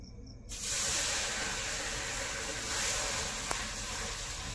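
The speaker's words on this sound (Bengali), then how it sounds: "এবার কড়াইতে জল দেব।" Water hits a hot nonstick kadai and flashes into a strong, steady hiss of steam that starts abruptly and keeps sizzling evenly for several seconds, close and alone, with no talking.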